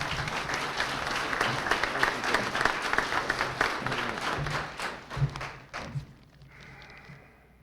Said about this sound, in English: Let's give him a round of applause again.